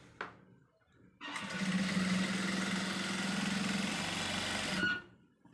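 A sewing machine runs a straight line of stitching along a basted kameez placket, a steady mechanical whir lasting about four seconds after a brief start, close and fairly loud with no talking.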